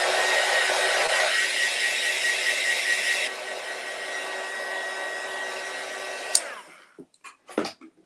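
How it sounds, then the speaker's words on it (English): Heat gun blowing hot air over a craft Christmas ornament, a loud steady whooshing roar that drops to a softer level partway through, then cuts off, followed by a few faint clicks and handling knocks. "I'm going to hit it with the heat gun just to be safe here real quick."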